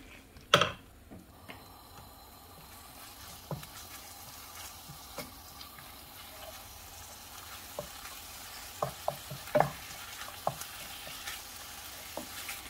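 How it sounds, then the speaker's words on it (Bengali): Chicken pieces frying in butter in a pan, a soft steady sizzle punctuated by scattered clicks and clinks of stirring, with a sharp clatter near the start; close and fairly quiet, no talking. "বাটার দেওয়ার সাথে সাথে এখানে আমি আমার চিকেনগুলো দিয়ে দেব।"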